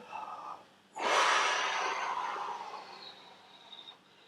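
A close, audible inhale during a standing yoga stretch. A brief breath comes first, then a longer airy intake that rises sharply and slowly tapers, quiet and alone.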